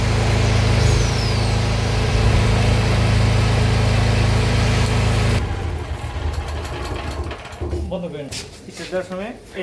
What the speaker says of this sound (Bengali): গ্যান্ডিং মেশিন চালানো হচ্ছে